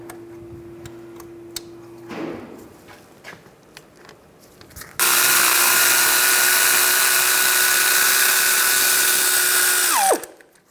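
Bolts on a Mini Cooper wheel hub being removed with a 13mm socket, quiet ticking and a ratchet-like burst first, then a loud, steady power-tool whine holding for about five seconds before cutting off sharply.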